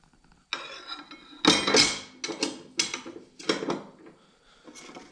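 A metal dado chipper blade being fitted onto a saw arbor: a series of sharp metallic clinks, taps and scrapes in irregular bursts, close and fairly loud, with no talking.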